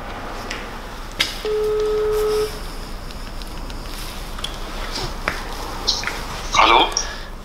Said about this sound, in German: Ich rufe einmal Mr. Duit an.